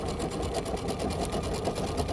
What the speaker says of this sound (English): I'm just going to sew with about a 1/4 inch seam allowance and sew this shut.